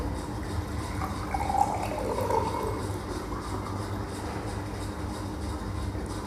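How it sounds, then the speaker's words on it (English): Water poured from a container into a glass for a classroom light-refraction activity, a steady soft liquid rush running throughout with a faint rising fill and no talk. "I want to fill the glass with water"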